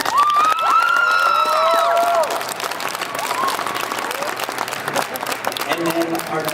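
Applause from a gathered audience for newly installed officer candidates, loud and sustained, with a few cheers and whoops early on and a voice rising over the clapping near the end.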